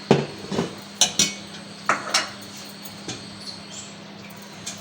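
A cooking pot holding an aloo and suji mixture is lifted off a kitchen stove, giving several sharp metallic clanks and knocks spread across a few seconds over a steady low hum, with no talking.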